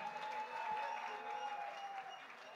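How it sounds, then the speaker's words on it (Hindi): Applause from the audience at a film music launch event, a faint, steady wash of clapping heard from a distance with a sustained tone over it. "जोरदार तालियां"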